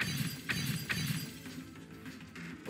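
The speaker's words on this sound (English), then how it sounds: "Glass shatter." Glass shatters in the video game Keep Talking and Nobody Explodes, a few quick bright crashes repeating in a loose rhythm, moderately loud with no talk.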